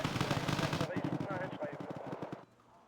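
MG3 machine gun fire in a video game, a rapid, fairly faint rattle of bursts that rolls on and cuts off near the end, with a voice talking over it.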